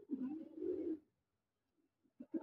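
A pair of Madrasi pigeons, a fine-footed hen among them, giving a soft, low cooing call close by, one drawn-out coo followed after a pause by short beginnings of another.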